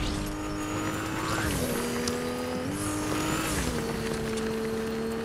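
A car driven in Fortnite: a steady engine drone that shifts pitch in stepped jumps as gears change, with light tire and road noise, loud and close, no talk over it.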